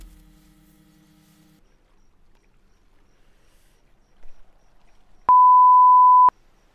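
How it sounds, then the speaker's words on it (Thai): After near silence with a faint low hum, a single clear electronic software beep sounds for about a second as a scan finishes, steady and loud. "พอมันสแกนเสร็จแล้วก็มันจะได้ยินเสียงตืด"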